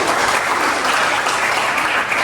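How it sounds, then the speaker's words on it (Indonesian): A class claps for a student, Yohana, during a university teaching session, a loud, close burst of many hands clapping together that stays steady for a couple of seconds. "Oke, tepuk tangan untuk Yohana."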